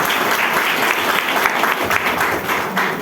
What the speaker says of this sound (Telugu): గ్రేట్, క్లాప్స్ ఇచ్చుకోవచ్చు మీకు